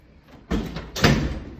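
School building doors thud and bang twice in quick succession, close by and fairly loud, with a faint rustle of movement before them.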